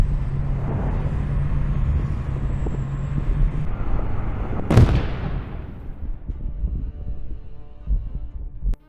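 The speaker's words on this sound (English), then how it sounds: "Just then, artillery fire begins." Artillery fire on a battlefield where Russian infantry are pinned in dugouts, a low continuous rumble under a single sharp, loud blast with a long decaying tail, then lower thuds.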